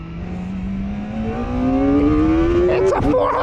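A 2024 Kawasaki Ninja 400RR accelerates hard onto a service road, its engine note climbing steadily and loudly through the gear, then breaking off sharply at a quick shift before pulling again.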